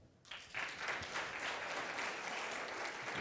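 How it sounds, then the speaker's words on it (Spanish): A church congregation bursts into applause after a moment of quiet, the clapping building quickly and then holding steady and fairly loud to the end. "Un aplauso ahí."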